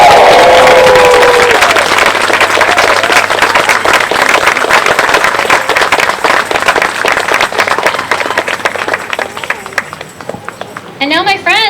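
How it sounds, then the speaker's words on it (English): Outdoor crowd cheering and clapping at a pride flag raising in Danvers, a loud sustained roar of voices and applause that holds steady and thins slightly toward the end. "Let's let up a cheer."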